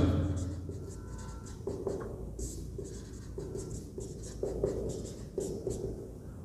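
Chalk or marker scratching on a board during a maths lesson, a series of short strokes and taps of steady writing, heard up close without talk.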